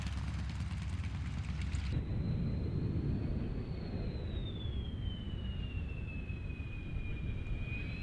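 Aircraft arriving at an air show, a loud steady roar of engines with a high whine that slowly falls in pitch as a plane passes, constant throughout with no talking.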